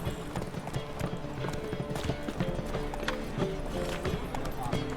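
Roach, a horse in The Witcher III, gallops in steady rhythmic clip-clop hoofbeats close by, layered over game music and ambience, with someone speaking over the hooves.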